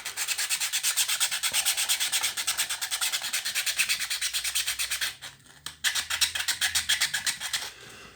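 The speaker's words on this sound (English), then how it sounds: "you've really got to get in there and really give them a good sanding." A connector corner is sanded by hand with 120-grit sandpaper in quick, regular back-and-forth strokes that are close and loud, with a brief pause and change of grip before the rubbing rhythm picks up again.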